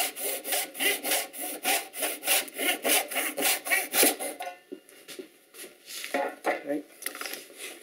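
Heavier-toothed hand saw making a wide cut through pine, with steady back-and-forth strokes in an even rhythm that grow softer and more irregular toward the end.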